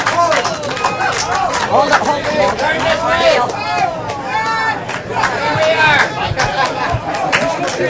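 A lively crowd at a bass fishing tournament weigh-in cheers, whoops and chatters continuously, with excited voices rising and falling close by throughout.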